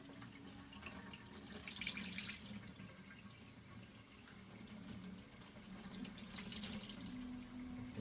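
Tap water running into a sink while soap is rinsed out of wet felt, a steady faint splashing flow with a few louder surges of squeezing and handling.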